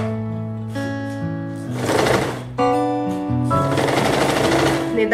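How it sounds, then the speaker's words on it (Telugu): A sewing machine stitches along the edge of an A-line frock in rapid, rattling bursts, loud and close, over steady sustained tones in the background. "ఎక్కడ ఈ ఎడ్జ్ లో ఒక కుట్టు వేయండి"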